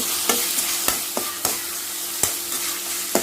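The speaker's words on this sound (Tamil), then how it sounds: "இதை நல்லா வதக்கிக்கலாம்" Tomato, green chilli and curry leaves sautéing in a hot pan: continuous close sizzle punctuated by sharp, irregular spoon or spatula knocks against the vessel, no one talking.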